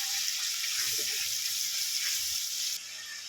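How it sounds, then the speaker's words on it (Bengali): Spice paste with ginger-garlic sizzles steadily in hot oil for cauliflower masala, a close, even frying hiss with faint stirring, easing slightly near the end. "পেস্টটা দিয়ে দেব ভেজে নেব এবারে এটাকে ভালো করে কষা"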